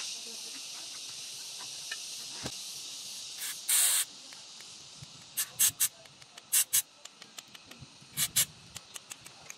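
Short bursts of WD-40 spray on the hood switch of a 2015 Kia Carnival. There are several quick hisses and one longer blast, with small clicks and handling noises in between, close up and fairly quiet.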